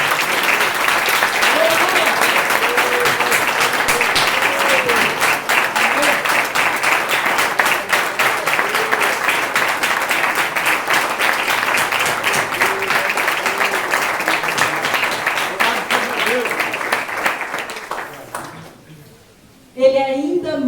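Congregation in a church during a Bible study service claps loudly and continuously for a long stretch, with a voice carrying over the applause; the clapping thins and fades near the end before a brief final burst.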